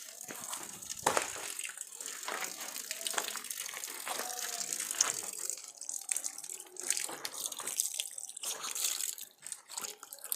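Spring water spilling from a carved cow-mouth spout set into rock, a steady splashing and trickling stream with bright broadband hiss that continues without a break throughout.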